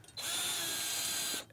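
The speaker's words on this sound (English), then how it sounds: "I do use the drill to put the head on, but only to get it down to essentially finger tight" A power drill whirs in one continuous high-pitched burst of about a second while fitting a snare drum head, starting and stopping abruptly, close and loud.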